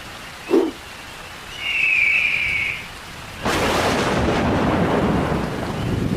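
A brief bird chirp and a thin high tone give way to a sudden loud rush of heavy rain with thunder that keeps pouring steadily.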